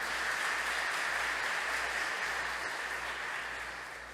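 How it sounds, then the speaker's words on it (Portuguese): A church congregation applauds steadily and loudly, a dense wash of clapping that holds for several seconds before starting to fade. "Vamos aplaudi-lo por isso,"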